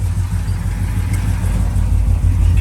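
A 1972 Chevrolet Chevelle with a 454 V8 runs steadily up close, a loud continuous low rumble with slight swells as it idles and revs lightly, with no talking.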